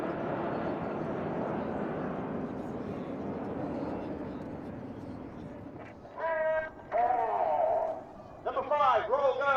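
RAF Red Arrows jets roar past in an aerobatic display at the Blackpool Airshow, a broad engine rush fading over time while an announcer's voice is heard over it.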